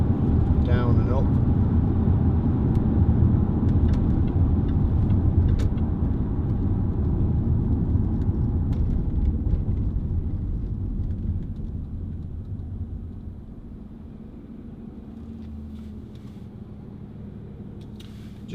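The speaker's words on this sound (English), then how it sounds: "so we're taking it out for a test drive" A Jaguar XF 2.7 TD premium luxury saloon on a test drive, heard as a deep steady engine and road rumble from inside the cabin that gradually eases quieter toward the end.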